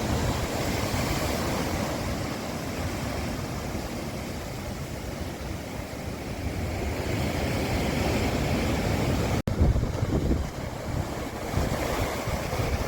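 Stormy sea surf on the Turkish coast roars continuously with heavy wind buffeting the microphone and a sudden thump partway through.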